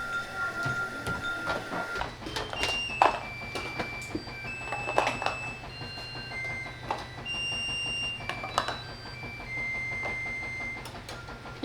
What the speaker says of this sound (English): Yes, my timer sings.